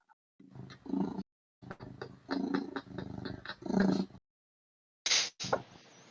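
A cat purring sound effect plays during a tabletop role-playing game session, with a deep, rumbling purr in several swelling bursts and a couple of sharper breaths at the end.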